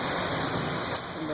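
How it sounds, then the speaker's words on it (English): Dense, continuous hiss of rain driven by thunderstorm winds in Sheridan on 7 September 2013, loud and steady throughout, with a voice speaking faintly under the downpour. "So that you can actually see the rain being blown"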